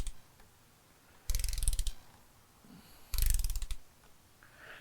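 Two separate bursts of ratcheting from a torque wrench pulled on head studs of a 6.0L Ford Powerstroke diesel, each a short, close clicking run lasting under a second with quiet between.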